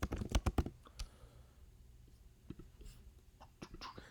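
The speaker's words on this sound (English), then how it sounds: "Sorry about the typing." Quick clusters of close, clicky keystrokes on a computer keyboard, with a dense burst at the start, then scattered taps after a short lull, fairly quiet overall.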